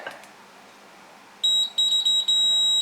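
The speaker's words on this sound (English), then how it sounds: "So let's just continuity check" A multimeter continuity test on vintage electronics unboxed from a loft gives a shrill electronic beep, sounding in several short bursts and then one longer steady tone, loud and close, with no talking.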